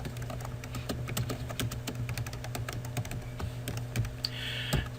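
Steady typing on a computer keyboard, with rapid, irregular clicks and taps close to the listener and a few louder keystrokes near the end, with no voices.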